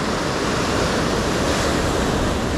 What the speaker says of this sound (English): especially when these bigger waves come